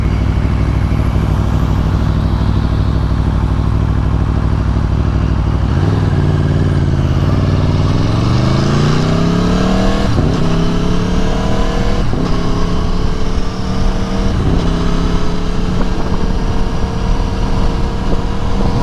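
A 2018 Aprilia Tuono motorcycle engine revs loud and close on a test ride, its pitch climbing steadily through repeated gear pulls with brief dips between shifts, sustained throughout.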